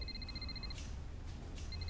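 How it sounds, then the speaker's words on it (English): A telephone rings in a flat with a repeating electronic warble: quick bursts of chirping tones that stop briefly and then start again. It plays alone at a moderate level, with no one talking. "That's just the normal ringing noise."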